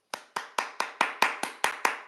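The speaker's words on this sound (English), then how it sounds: "I'm clapping for you." Nine sharp hand claps in a steady, fairly quick rhythm, close and clear, each with a short decay, with no talking.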